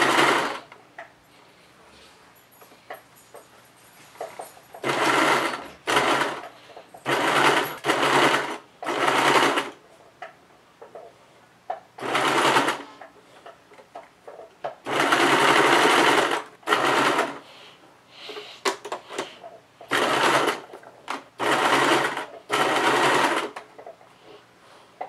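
A sewing machine stitches a small fabric dice bag in a series of loud, close whirring bursts, each lasting one to two seconds, with quiet pauses between them as the fabric is repositioned.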